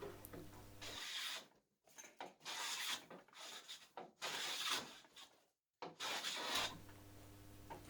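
Hand plane finishing a wooden board, a series of rasping strokes in a steady rhythm, each a close, crisp swish with short pauses between, over a faint background hum.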